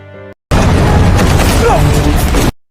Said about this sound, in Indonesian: Sebuah peluru tank meledak di dekat Tatsuo dan Jun-sik